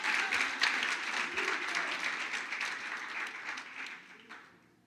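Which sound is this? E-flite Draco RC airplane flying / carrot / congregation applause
congregation applause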